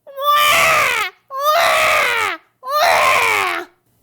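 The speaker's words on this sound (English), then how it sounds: "Suddenly, the baby cries again." An infant cries in three long, loud wails separated by short breaths, each rising then falling, close by with no other voices.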